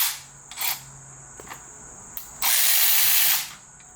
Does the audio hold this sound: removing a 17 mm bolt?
yes